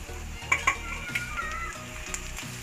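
Green chili sizzles and fries in a pan with onions that have turned light pink, forming a steady crackle with a few sharp clinks, under a low musical backing.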